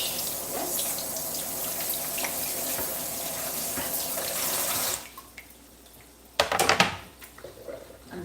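Kitchen tap water running steadily into a sink while fish is rinsed, a continuous close rush that stops briefly, then a short splashing burst as the water resumes.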